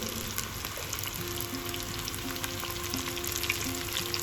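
Mushroom pakoda batter frying in hot oil in small batches, a steady dense crackling sizzle at moderate level with no talk.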